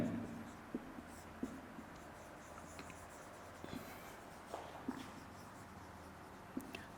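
Pen writing notes on a surface, soft quiet scratching strokes with a few small taps spaced irregularly over low room hiss, no clear talking.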